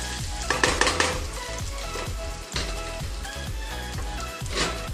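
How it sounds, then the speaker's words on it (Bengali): Fish frying in oil in a pan, with a steady close sizzle and crackle running the whole time, broken by brief louder spatters and some clinks of utensils. "দেখো, মাছটা পুরো ভাজা হয়ে গেছে।"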